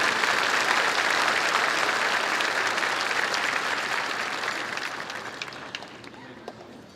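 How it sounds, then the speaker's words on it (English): Sustained applause from a large commencement ceremony audience, a dense wash of clapping that holds steady and then gradually thins and fades toward the end, with no talking over it. "Let's give them an applause."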